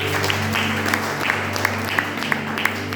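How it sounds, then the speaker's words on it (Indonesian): A church congregation at a Sunday worship service claps together, a dense steady wash of applause that fills the room, with sharper individual claps popping through and a sustained tone lingering underneath. "Beri tepuk tangan buat Tuhan."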